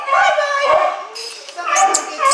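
Ryder, a big dog at a county dog pound, lets out a couple of close yips and whimpering cries in quick succession, fairly loud.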